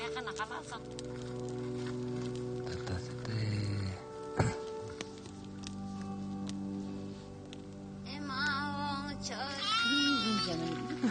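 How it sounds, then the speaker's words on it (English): Baby goats in the Ladakh highlands bleat in wavering, high calls near the end, over a steady background with voices talking nearby. "Oh, my little baby goats."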